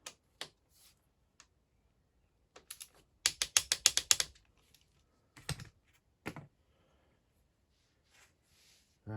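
Clicking ratchet of a torque wrench tightening ignition cover bolts on a 2011 KTM XC-F 250 dirt bike, in short bursts of quick clicks separated by pauses, close and alone with no talk.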